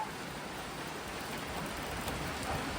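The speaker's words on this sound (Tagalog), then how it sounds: "Maulan dito sa Bicol." Steady rain in Bicol, a dense even hiss of drops falling without pause, moderately loud and alone.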